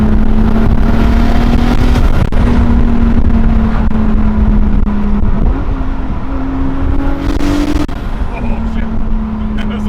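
An MK4 Volkswagen GTI with a turbocharged VR6 engine and a G30-900 turbo pulls hard nearby, its steady engine tone rising under acceleration, with people talking loudly inside the car throughout.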